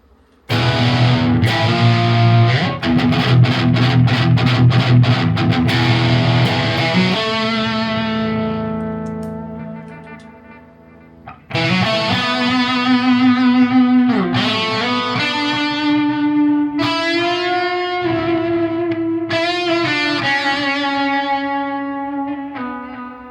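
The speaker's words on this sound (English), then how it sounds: "let's just throw in a lot of distortion actually." A single-coil electric guitar through a Marshall amp with heavy distortion strums thick chords, lets them ring and fade, then returns with sustained bent lead notes, loud and close.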